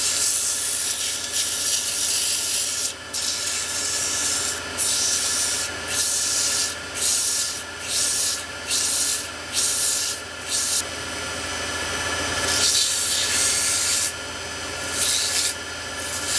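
A wooden pen blank spins on a lathe while being sanded with coarse sandpaper, giving a steady loud rubbing hiss with repeated short breaks as the paper is lifted and pressed back on, over a constant motor hum.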